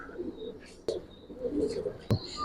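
Giribaz pigeons of the Bagha and Jabra types cooing at a busy pigeon market, soft low coos repeating under crowd murmur and nearby voices, with a couple of sharp knocks.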